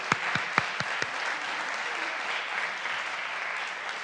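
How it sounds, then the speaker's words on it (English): Applause at a city council meeting fills the room after a Pledge of Allegiance, a steady mass of clapping from the audience with a few louder, closer claps early on, holding evenly throughout. "give one more round of applause to Miss Sophia Gause"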